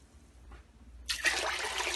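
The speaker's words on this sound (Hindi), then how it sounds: "अब हम इसमें पानी डालेंगे।" Water is poured into a cooking pot of moong dal khichri, starting as a faint trickle and then becoming a loud, steady splashing rush for the last second, with no talking.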